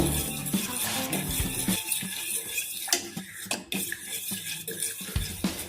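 A spoon stirs and scrapes a thick homemade Dettol soap mixture in a metal pot over a gas flame, giving a steady run of close metallic clinks and rattles with no talking.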